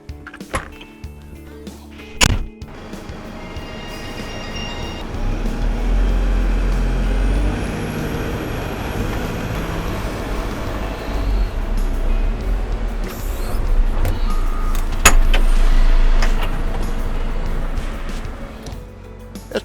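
A Hyundai HL930A wheel loader at a wood recycling yard starts with a few clunks and a hiss, then its diesel engine drones low and steady as it drives, with occasional mechanical knocks and a rising whine.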